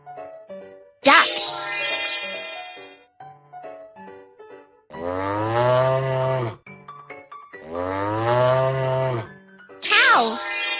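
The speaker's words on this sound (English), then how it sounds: "Cow." Cow from a kids' animal-sound guessing game, two long loud moos, each lasting about two seconds, set between bright game jingles and chimes.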